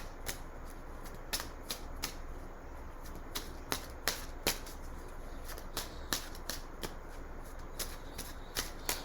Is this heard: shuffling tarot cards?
yes